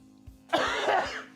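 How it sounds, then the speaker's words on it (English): A person coughs up close indoors, a harsh, throaty burst that trails into a raspy throat clearing after a few quieter knocks in the background. "There's going to be unsolicited coughing constantly."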